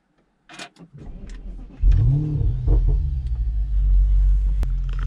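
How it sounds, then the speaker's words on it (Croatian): An Audi RS7 with tuned map, intake and exhaust rated at 720 hp and 1000 Nm cranks and fires with a sharp bark, then settles into a loud, deep idle with blips of revving. Brief clicks and handling noises come first. "tako se pali RS 7 sa ovom konfiguracijom e, mape, usisa i auspuha"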